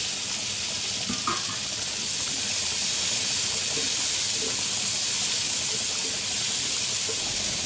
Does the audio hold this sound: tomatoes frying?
yes